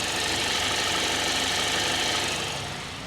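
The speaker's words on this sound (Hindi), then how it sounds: "ये जो आइडलर बैरिंग घूम रहे हैं ना, इनमें से ही कोई एक आवाज़ है।" A car engine idles with a noisy idler bearing, making a dense, steady mechanical whirr and rattle heard close up, constant throughout and fading slightly at the end, with no talking.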